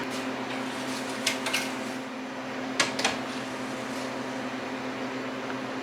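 A freeze dryer runs with a steady mechanical hum and low tone throughout, punctuated by a few faint clicks and knocks; no voices.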